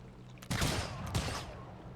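Two sharp volleys of gunfire ring out in quick succession as units open fire in the strategy game Humankind, each burst loud and rolling off into a brief noisy tail.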